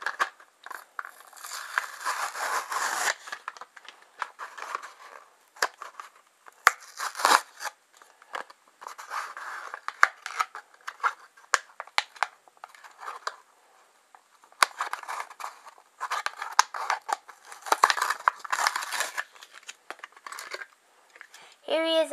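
Plastic blister packaging of a Hot Wheels Holiday Racers 2021 die-cast car being torn and crinkled open, with bursts of close crackling and tearing separated by pauses, and a voice talking intermittently.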